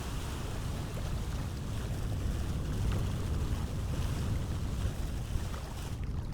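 A sailing boat cruises through water in the fantasy game The Fifth Age, slowing in a bay near the shore, with a steady wash of water and wind rushing continuously and fairly close, with no talking.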